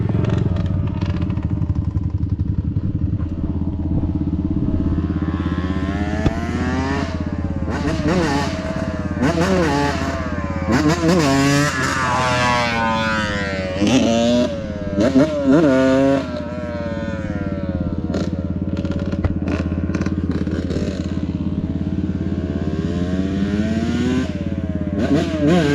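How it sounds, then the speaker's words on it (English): Dirt bike engine revving hard through a power wheelie in a wooded holler, loud rising and falling revs with throttle blips and clattering, voices briefly heard nearby. "It's a power wheelie, bro."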